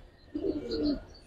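A female pigeon of a Giribaz high-flyer coloring line coos once, a soft rolling call lasting under a second, fairly close and alone against quiet background.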